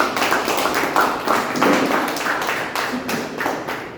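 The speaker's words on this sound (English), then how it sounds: "Big round of applause for our team." A small room of Toastmasters club members claps for their team, a steady patter of individual hand claps lasting several seconds at close range.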